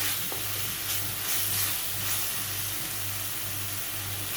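Malvani masala sautés in a pan for prawn masala, a soft steady sizzle and hiss with faint stirring over a low, pulsing hum, quiet and continuous without any voices.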